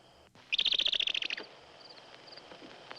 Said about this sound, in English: Bird give warning.